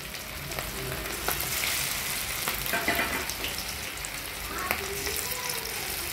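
Small chicken pieces for pakodi fry in hot oil in a kadai, giving a continuous, close, bubbling sizzle with occasional crackles and stirring clinks.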